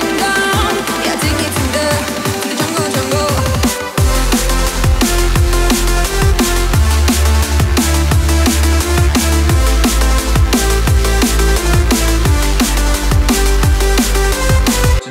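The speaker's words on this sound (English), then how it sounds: "It's a drum and bass track and it sounds something like this." Drum and bass track, loud and dense throughout: a busy opening section gives way near four seconds to a full drop with heavy sub bass, rapid breakbeat drums and layered synths driving continuously.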